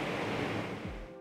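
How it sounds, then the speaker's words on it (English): Strong wind on a very windy day in Cape Town roars against the microphone as a dense, steady rush that fades near the end, with no talking. "That was a very strong wind outside."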